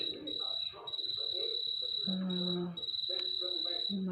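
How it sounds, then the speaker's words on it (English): A single shrill, high-pitched chirp held almost continuously, like one cricket, with faint voices murmuring underneath. "almost like crickets, but it sounds more like just one."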